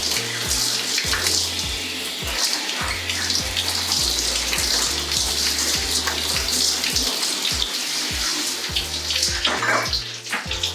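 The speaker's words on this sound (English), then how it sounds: "So now we're gonna wash out the hair mask." Water from a tap runs steadily while a hair mask is rinsed out of curly hair, a continuous close splashing stream with irregular rhythmic thumps beneath it and no talking.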